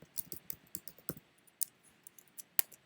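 Computer keyboard keys clacking in quick, irregular bursts of taps with short pauses between runs, close and fairly quiet, no voices.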